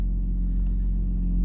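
An Acura TL's engine idles steadily after starting, a close, continuous low rumble with no voices over it.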